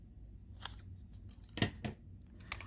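Scissors snip through a paper banner in a few short, crisp cuts, spaced irregularly, close and fairly quiet with no talking.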